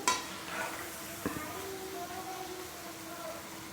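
Sweet puas made from jaggery and wheat flour fry in hot oil, giving a steady soft sizzle with a faint clatter of utensils near the start.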